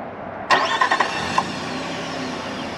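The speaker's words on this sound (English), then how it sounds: "press and hold the remote start button on the key fob" A 2022 Nissan Frontier Pro X crew cab pickup starting by remote: a sharp crank and catch at about half a second, a few quick revving bursts, then a steady close idle running alone to the end.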